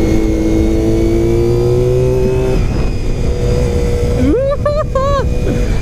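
A Honda VFR400 RC30 motorcycle engine running loud and close on a ride, holding a steady drone before rising in a few quick revving swells near the end.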